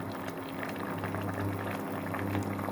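Steady bubbling of brine boiling in a pot for pickling mushrooms, a constant close rumble with soft popping, no voices.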